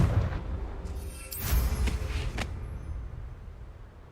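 A fiery Confringo spell bursts in a video game, a booming blast with a swell around the middle that rumbles low and fades out, loud and close with no talk over it.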